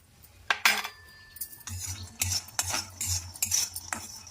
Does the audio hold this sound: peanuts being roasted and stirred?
yes